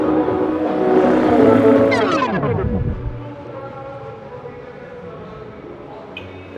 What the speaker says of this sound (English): And there's a garbage truck coming by